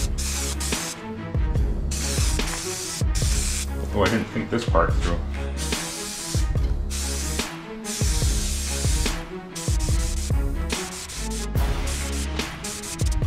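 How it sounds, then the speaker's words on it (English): Spray adhesive hisses from an aerosol can in bursts while coating a car headliner for a 1954 Chevy rat rod, steady close spraying broken by short pauses, with someone talking over it. "you gotta spray this on in overlapping layers"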